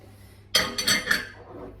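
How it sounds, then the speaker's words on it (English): Chopped carrot and capsicum tumble into a pot of Thai chilli chicken curry, a quick cluster of three or four close clinks and clatters against the pot, with no talk. "We're going to throw in the carrot and the capsicum that we chopped up at the beginning."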